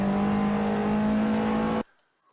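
A TCR touring car at Cadwell Park accelerates up through the gears, its engine a loud, close, sustained drone that cuts off abruptly into near silence.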